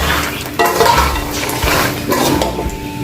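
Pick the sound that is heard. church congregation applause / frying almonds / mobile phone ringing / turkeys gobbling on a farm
frying almonds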